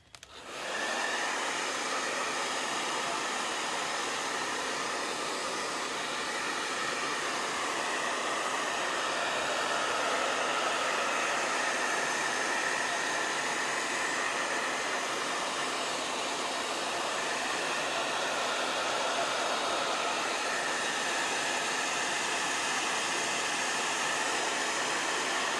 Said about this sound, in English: I'm going to blow dry again.